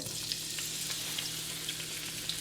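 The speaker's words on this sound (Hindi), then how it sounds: "ऑयल को थोड़ा गर्म होने देंगे। अब इसमें प्याज डाल देंगे" Onions frying in hot oil for a Lahori-style mutton karahi give a steady, continuous sizzle with faint crackling pops. The sound is moderately quiet and there is no talking.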